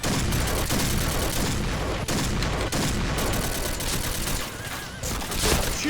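Rapid SCAR Recamo rifle fire in the Point Blank video game crackles in dense, continuous bursts with brief gaps, loud and close, with faint voice beneath.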